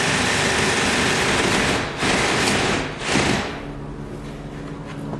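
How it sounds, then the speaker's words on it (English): A 1-inch spade bit bores a deep deadbolt hole through a door, the drill's steady loud whine dipping briefly twice as the bit bites into the wood, then settling into a lower hum near the end. "take our 1-inch spade bit and just finish that hole"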